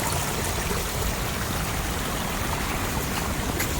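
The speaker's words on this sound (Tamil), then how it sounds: "அருவியை பாருங்க. இங்கே போயிட்டு இருக்கு." Steady broadband rush of a waterfall stream at Kurangani Falls, continuous and fairly loud, with no voices, a constant flowing wash that never lets up.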